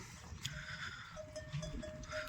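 A herd of buffaloes moving through a quiet outdoor scene, with faint bells clinking and soft rustling throughout.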